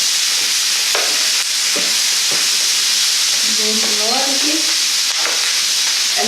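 Brussels sprouts sautéing with black pepper in a hot pan give a loud, steady sizzle and hiss throughout, with a few stirring scrapes and knocks of the utensil near the middle.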